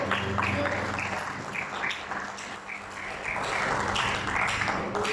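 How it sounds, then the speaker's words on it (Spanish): A church congregation applauds during a Spanish-language service, a continuous wash of clapping that rises and falls slightly, with a low hum beneath it. "aplauda al Señor"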